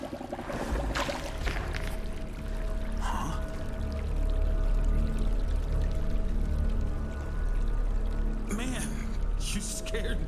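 Water is poured for drinking in the snowy game Winter Survival, a steady splashing pour running under voices talking throughout.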